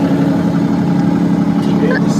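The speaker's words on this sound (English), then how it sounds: "how good does the engine sound?" Catamaran marine engine idling steadily at low revs after a new gearbox was fitted, a constant close mechanical drone with a voice briefly over it.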